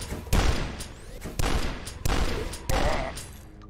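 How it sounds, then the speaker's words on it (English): Dual-wielded shotguns fire in the video game Beneath Dusk, with four heavy, booming blasts spaced roughly evenly apart, each followed by a rumbling tail. "so now you've got two shotguns that are just right. Exactly as impactful as they should be."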